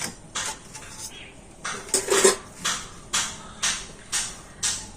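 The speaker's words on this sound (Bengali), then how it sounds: "আবারও ধারগুলো এরকম ছুরি দিয়ে একটুখানি ছাড়িয়ে দিচ্ছি" A knife scrapes and lifts the edges of homemade raw-mango leather from a metal plate, giving a run of repeated, evenly spaced clinks and scrapes at close range, about eight short strokes in all.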